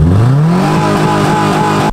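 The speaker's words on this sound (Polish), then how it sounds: "przynajmniej silnik dobrze działa" A revived Subaru car, fitted with truck wheels and set up half stance, half off-roader, has its engine revved up loud and close, the pitch climbing quickly and then holding at a steady high drone.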